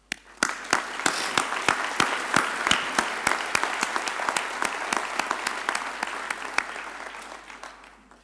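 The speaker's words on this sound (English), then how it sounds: "they do deserve a thunderous applause" Audience applause at a university graduation ceremony, a steady crowd of claps sounding together for several seconds before slowly thinning out toward the end, heard at moderate distance with no talking.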